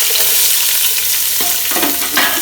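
Onions dropped into a pan of hot oil with spluttering whole spices like cloves and cardamom, giving a loud, steady sizzle with a sharper burst as they go in, then stirring scrapes.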